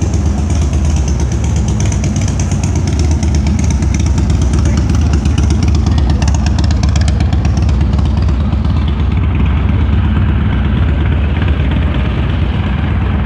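A motorcycle engine runs loud and close, a steady, rough rumble with a slight rise in pitch midway, alone with no other sounds.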